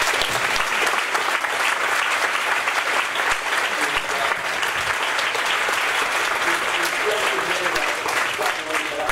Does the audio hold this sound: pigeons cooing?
no